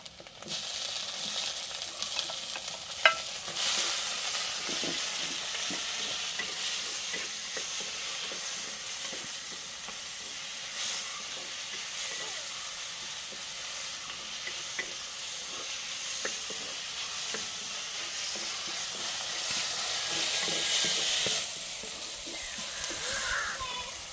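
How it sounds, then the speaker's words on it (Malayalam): Onion and tomato frying in a pan, a continuous close hiss of sizzling oil with occasional light stirring scrapes and one sharp clink. "സവാള ഇട്ട് കൊടുക്കാം ഇനി തക്കാളി ഇട്ട് കൊടുക്കാമേ"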